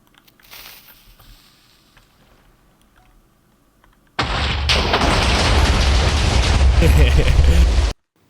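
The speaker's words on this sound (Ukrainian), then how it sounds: "ТНТ і вибухи." Quiet background at first, then a sudden loud, sustained roaring blast of TNT explosions in Minecraft that rumbles continuously for several seconds before cutting off abruptly.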